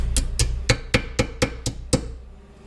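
Eight sharp metallic strikes of a non-bodywork hammer on steel plate for a 1972 VW Beetle front beam, even rhythm, close and loud, each ringing briefly before the next blow.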